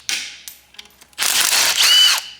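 A drill-type driver spins out 10mm bolts on a K-series AWD/FWD transmission during disassembly: a short whir, a couple of faint clicks, then a longer, louder buzzing burst, close by.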